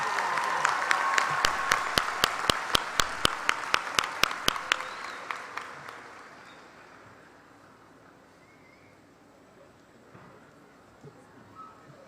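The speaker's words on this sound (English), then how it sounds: "Another round of applause for your salutatorian," A graduation crowd at the Conroe High School class of 2022 ceremony applauds the salutatorian, with sharp hand claps standing out over the first five seconds before the clapping thins and fades into quiet room ambience.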